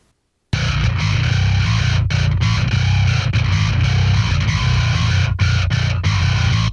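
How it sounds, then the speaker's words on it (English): A heavily distorted bass part plays loud and sustained after a brief silence, gritty and saturated, with a few short dropouts. "So here's the whole bass group with the distortion."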